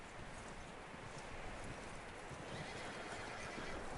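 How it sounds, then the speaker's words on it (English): In the Red Dead Redemption 2 video game, a horse whinnies while its hooves clop nearby, set against a steady outdoor ambience. "That looks like a decent horse. You should keep him."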